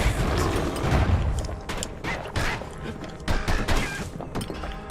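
Fire bellows flamethrower weapon firing in the video game Bastion, a continuous roaring rush punctuated by crackling bursts and thuds, loud and close without pause.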